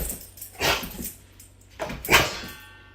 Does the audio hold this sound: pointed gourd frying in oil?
no